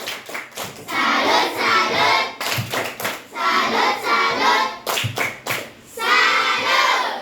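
A class of fifth-grade schoolchildren in a classroom claps a rhythmic patterned cheer in several bursts, sharp beats followed by fast, dense applause, repeated three times close by.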